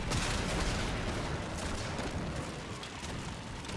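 A dense, roaring burst of explosive noise fills a Warframe battle, loud broadband rumble and crackle sustained throughout, slowly easing toward the end.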